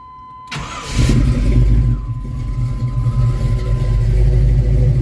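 A 1991 Chevrolet S10 Blazer engine cranks and fires after a short quiet lead-in, then settles into a loud, close, rumbling idle with a slight rise in revs.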